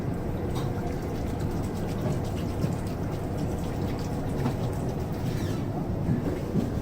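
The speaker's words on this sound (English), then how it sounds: "And the train has just now started as well" Rail noise as the 12222 Duronto Express pulls out of the platform at Howrah on a cold, dark evening: a steady low rumble and rattle of the coach, continuous and fairly loud throughout.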